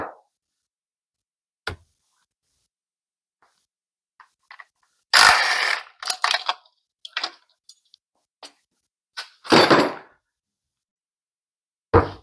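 A 15 mm ratchet wrench works loose the belt tensioner on an L61 engine, giving scattered sharp clicks and short ratcheting bursts separated by quiet gaps, close by.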